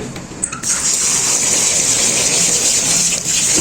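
Water poured into a pot of rice to soak it before cooking beef pulao, a steady hissing gush that runs continuously after a brief start, fairly loud and close with no talking.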